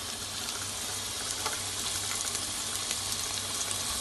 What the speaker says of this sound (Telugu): ఇదండి వాటర్ పోసేసాను